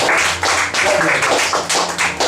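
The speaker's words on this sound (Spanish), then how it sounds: "Denle unas palmas al Señor" A church congregation claps together in worship, a steady run of quick, bright handclaps in a loose rhythm, with a faint sustained tone beneath.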